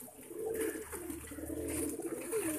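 Pigeons cooing nearby, soft throaty warbling calls repeating over a low hum, with no talk.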